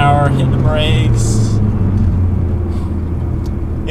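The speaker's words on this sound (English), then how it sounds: "So 70 mile an hour hitting the brakes." Steady road rumble of a Nissan GT-R braking hard from 70 mph, a loud low drone with tire and wind noise filling the whole stretch.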